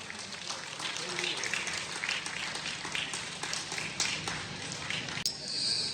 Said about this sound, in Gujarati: તાળીઓથી વધાવીએ